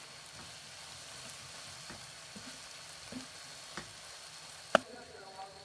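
Food sizzles softly and steadily in a pan of mustard oil and ghee, with a few light stirring clicks and one sharper tap near the end.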